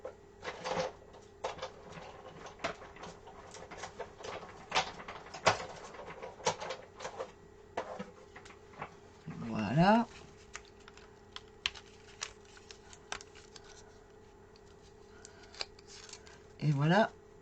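Paper craft piece cut out with scissors after a metal die is held in place with masking tape, giving a run of short, crisp snips and clicks under occasional speech, with louder handling rustles near the middle and end.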